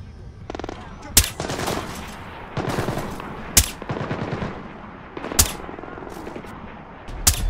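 Gunfire in the video game Splinter Cell Blacklist comes as bursts of rapid shots with several sharp loud cracks, mixed with game sounds and a voice speaking.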